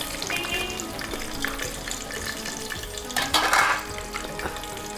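Potatoes drop into hot oil already crackling with urad dal, cumin and mustard seeds for Telugu-style sambar, a steady close sizzle with a brief louder burst of spattering as they go in.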